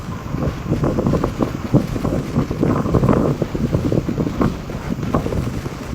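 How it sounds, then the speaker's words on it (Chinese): Strong wind roars across a campsite by a mountain lake deep in the Pamir highlands, loud buffeting gusts battering the microphone in a continuous, surging rush with no voices. "外面这个风越刮越大了"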